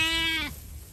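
A native desi sheep from a grazing flock in Lakhimpur Kheri lets out a single loud, close bleat lasting about half a second, followed by quieter outdoor background noise.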